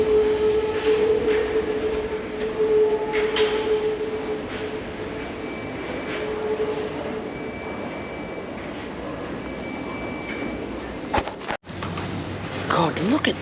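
A Paris metro train rounds a loop on lines 3bis or 7bis, its steady rolling rumble and a thin wheel squeal running continuously before a brief drop and some clatter near the end.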